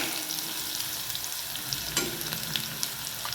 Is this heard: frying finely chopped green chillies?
yes